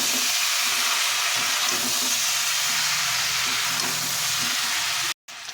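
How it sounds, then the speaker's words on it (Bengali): Fish-head chanchra with turmeric and chili powder is stirred in a frying pan, making a loud, steady sizzle that cuts out briefly near the end. "এবার সব কিছু আবারও ভালোভাবে মিশিয়ে নিচ্ছি"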